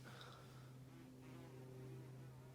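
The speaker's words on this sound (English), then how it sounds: "That's either a bee or a wasp, and I can't tell from this angle." A bee or wasp buzzes near two 12-inch desk fans, a 1996 Blue Ice and a 1995 CED, its faint whine riding over the fans' steady low motor hum for a few seconds without speech.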